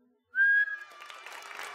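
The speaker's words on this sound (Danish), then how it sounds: "pust i fløjten" A referee's whistle gives one loud, shrill blast at a children's football match, with the crowd's cheering and applause building right after it and carrying on to the end.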